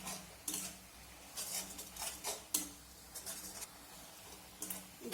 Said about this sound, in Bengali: এখন নেড়ে চেড়ে আমি পুরটা তৈরি করে নেব।